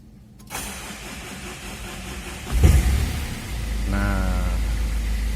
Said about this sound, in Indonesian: kita coba untuk starter mobil ini